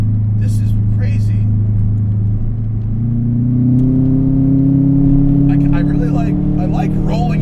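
A modified Subaru Forester XT engine rises from a steady idle rumble to a climbing rev as the throttle is rolled on through a hand control, loud and close inside the cabin.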